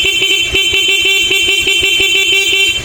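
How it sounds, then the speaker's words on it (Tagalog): Stock horn on a Honda Beat FI version 1 scooter gives a rapid string of short, loud beeps in a steady rhythm, close by, with no talk over it. "Busina tayo, stock yung busina ni sir."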